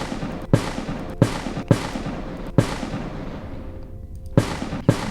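Video game gun fires six separate sharp shots at irregular intervals, each a loud crack with a short decaying tail, with no talking.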